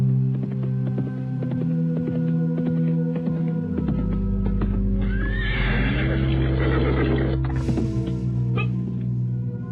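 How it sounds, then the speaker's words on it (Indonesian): A horse whinnies loudly and close in a radio-drama scene as a rider on horseback approaches, the neigh rising over a low rumbling music bed with soft hoof clatter. "nampak seorang penunggang kuda menghampirinya"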